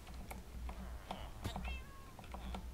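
A cat meows several times in Minecraft survival gameplay, version 1.16, small repeated in-game calls over a soft steady background.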